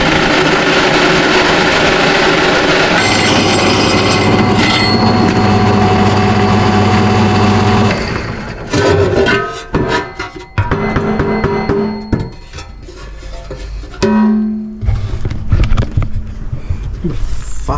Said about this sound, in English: I'm going to drill this with my pedestal drill